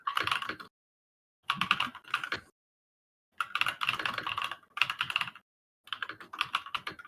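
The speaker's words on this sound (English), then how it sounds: "the keyboard clicks keep us company" Loud computer keyboard clicks come in several bursts of rapid typing separated by silent pauses, close and clattery, with no talking during them.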